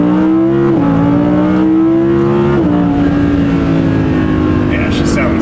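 Car engine, apparently a Porsche GT3 or its replacement, revs and accelerates continuously at close range with a steady rising and shifting drone, stepping up in pitch a few times.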